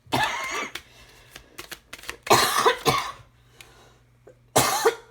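Several sharp, hacking coughs in loud bursts, with quieter card shuffling and handling sounds between them during a tarot reading.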